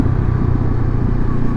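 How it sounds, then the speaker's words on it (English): Honda SCL500 Scrambler exhaust burbling steadily on a downshift, a loud, close, continuous low rumble with a slightly uneven, popping texture throughout. "This exhaust has a little bit of pop to it, you know, whenever you downshift it kind of burble, burble, burble, burble."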